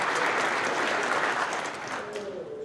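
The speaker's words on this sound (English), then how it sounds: "Let's give these guys a round of applause." Steady applause from an audience at a trucking company's monthly celebration, dense clapping throughout that eases slightly near the end as a voice begins.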